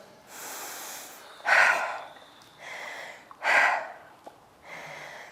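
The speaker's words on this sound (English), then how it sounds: "there's a good big yawn." A horse yawning and breathing during an equine massage, producing several slow, airy breath bursts in sequence, two stronger snort-like exhalations among softer ones, heard up close without talk.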